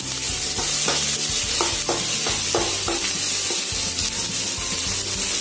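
Peanuts and grated ginger fry steadily in a pan, a constant close sizzle broken by several distinct scraping strokes as they are stirred; no voices.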